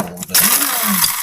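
A small, underpowered kitchen mixer whirs loudly and close as it crushes graham crackers, starting up after a brief pause into a continuous high buzzing drone.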